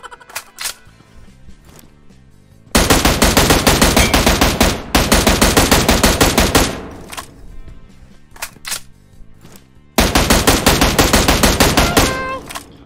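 Bursts of automatic gunfire from PUBG Mobile, loud and dense, in three long sustained volleys separated by quieter stretches with scattered single shots and faint game ambience.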